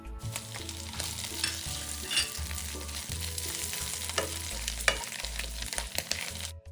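Pork belly stir-fried in a hot pan until its fat renders, cooking for bamboo shoot rice: a loud, steady sizzle and crackle that runs the whole time, with no talking.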